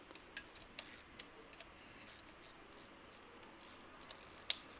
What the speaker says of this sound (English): take the ratchet to tighten the nut